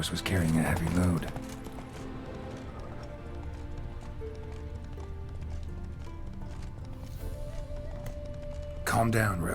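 Witcher 3 horse Roach gallops with rhythmic hoof thuds in a steady clip-clop under game music and ambience, while voices talk briefly near the start and end.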